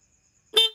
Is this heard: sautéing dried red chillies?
no